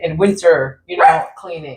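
A dog barks and yips loudly at close range, two or three quick bursts overlapping a person talking.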